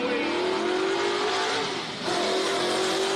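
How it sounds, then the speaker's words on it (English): Classic race car engines roar and rev hard as the cars launch off the line at a Cape Town race meeting, a loud continuous snarl with a brief dip before surging again. "Just listen to these cars launch off the line."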